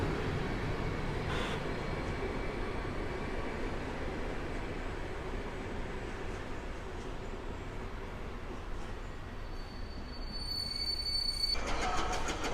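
An EM57 electric multiple unit pulls away from Warszawa Zachodnia station, a steady broadband rumble and hiss of wheels and motors holding throughout, with faint high electrical whines near the end.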